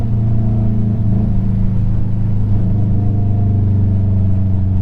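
Steady low engine drone and rumble from a Subaru WRX, heard close up through a mic in the car, holding a constant loud hum with no clear revs and no talking.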